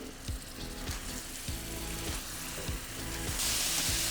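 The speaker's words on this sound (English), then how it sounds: "We're gonna go ahead and put our meatballs down on the oil. You can hear that sizzling, that's when you know it's ready." Meatballs sizzle steadily in hot frying oil, a dense crackling hiss with repeated soft thuds as pieces are set down or moved, growing louder and brighter near the end.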